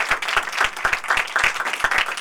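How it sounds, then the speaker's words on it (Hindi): Worshippers at a Christmas church gathering keep up rhythmic, unified clapping, sharp regular beats in a steady tempo, moderately loud and unbroken by speech. "इसके निजात बख्श काम की जोरदार तालियां।"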